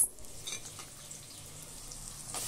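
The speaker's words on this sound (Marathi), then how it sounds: "कांदे शिजत आहे" Onions for veg pulao fry in a pan with a soft, steady hiss and faint crackle that holds close and fairly quiet throughout, a few light clicks above it and no voices.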